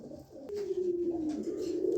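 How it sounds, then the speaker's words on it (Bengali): Pigeons, a pair of Maxi pigeons kept by a fancier, give a soft continuous cooing, a low droning coo running steadily across the clip after a brief click near the start. "দেখেন কবুতর দুইটা, দেখেন কবুতর জোড়াটা দেখেন আগে"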